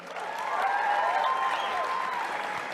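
A conference audience at CPAC breaks into applause and cheering that swells quickly and holds steady for a few seconds, with whoops rising above the clapping.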